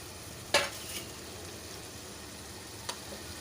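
Chicken goes into a pan of frying masala with yogurt and oil, giving a faint, steady sizzle broken by one sharp utensil clink near the start and a lighter tap later.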